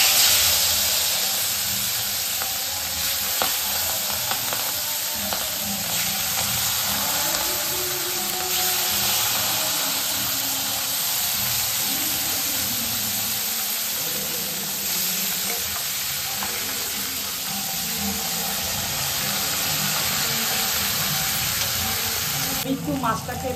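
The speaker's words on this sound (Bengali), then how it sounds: "একটু মাছটাকে একটুখানি ভেজে নিলাম" Turmeric-coated hilsa fish fries in hot oil for ilish paturi, a loud continuous close sizzle and spatter holding steady throughout, with occasional stirring shifts and faint background voices.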